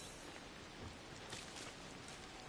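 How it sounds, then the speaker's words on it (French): Rain falls in the video game Disney Dreamlight Valley as a steady, soft hiss that stays even throughout, faint and with no voices. "il pleut, je n'ai pas mon parapluie"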